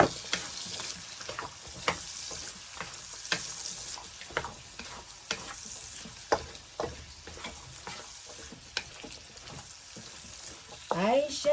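Carrots fry in a pan for lamb chop fried rice, a soft continuous sizzle broken by repeated sharp scrapes and taps of stirring.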